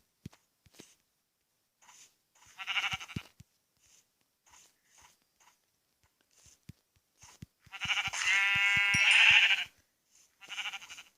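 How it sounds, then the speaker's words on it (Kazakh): Sheep bleating in Minecraft: a few short, quiet bleats early on, then a louder, drawn-out bleat near the end over sparse soft clicks and game noises. "Қойлар қайтта респаун қылып жатыр ма?"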